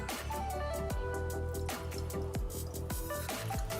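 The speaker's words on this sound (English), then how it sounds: "So on the Reshoevn8r shoe, the water just sort of beads off." Water beads up and drips off a treated Reshoevn8r shoe in a quick run of small drips and splats, each one close and distinct, over a background of steady tonal music.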